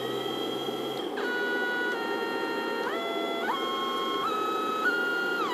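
A brushless DC main drive motor from an HP 2605 LaserJet laser printer runs with a steady tonal whine that steps down in pitch several times as its speed is reduced, heard close and alone.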